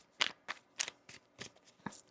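A deck of tarot cards being shuffled by hand, about six quick crisp riffling bursts in an irregular rhythm, close and fairly quiet.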